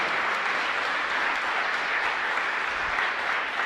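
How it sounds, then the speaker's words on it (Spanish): A church congregation at Mass applauds loudly for a deacon marking 29 years of service, with steady, dense clapping throughout and no talk over it. "Fuerte aplauso."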